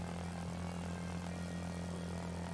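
A propeller plane engine in a flight video game, a steady loud drone with a strong low hum that holds level throughout as the throttle is brought up for a climb.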